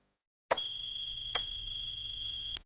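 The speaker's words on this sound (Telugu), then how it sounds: "మీ బటన్ నొక్కినప్పుడు ఇక్కడ ఎర్ర బల్బ్ వెలుగుతుంది, తర్వాత సౌండ్ వస్తుంది, బీప్ సౌండ్ అని వస్తుంది." An electronic voting machine gives a sustained high-pitched electronic tone after its button is pressed, starting abruptly, holding for about two seconds with a couple of clicks along the way, then cutting off.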